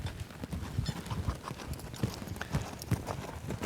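Hooves of a horse ridden at a lope during a riding lesson clip-clop in a steady rolling rhythm, close and fairly loud, with no talk over them.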